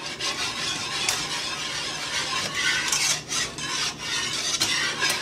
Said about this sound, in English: Keep stirring with a whisk, a fork, anything.